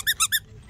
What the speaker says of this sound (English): We're going to get some squeaky toys.